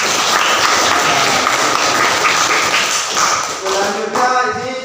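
Classroom applause after a student answers during a teaching session: a short round of brisk clapping with some taps and thuds, fading as a voice begins speaking near the end.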